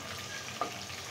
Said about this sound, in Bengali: এখন আমি এর ভিতরে এই যে শুকনো লঙ্কা দিয়ে দিলাম, আর আগে থেকে রসুন কুচিটা দিয়ে দিলাম।